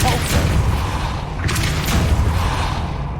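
The Depulso spell is cast in Hogwarts Legacy, giving heavy booming blasts that swell and roll over a few seconds, loud and close, with a little faint talk beneath.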